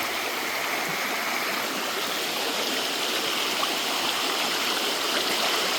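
Close, unbroken rushing and churning of a high, fast creek in Pennsylvania, loud and uniform from start to finish, with no speech over it.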